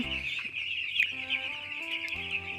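Chickens cluck and squawk in a broiler breeder poultry house, many birds layered into a busy, continuous chorus over a steady high hum from the shed.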